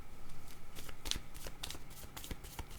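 Tarot cards being shuffled and drawn, a soft, quiet flutter of riffling card edges with a few sharper snaps, heard close and alone.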